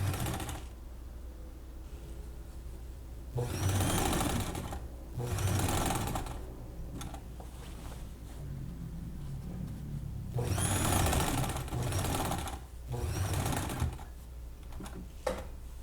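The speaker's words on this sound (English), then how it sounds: "Open your widest zigzag. And then go over, trying to avoid sewing over the yarn." A sewing machine runs a wide zigzag stitch over yarn laid along a button-up shirt sleeve, whirring in several rapid bursts of a second or two separated by quieter pauses, close and clear, with no talk.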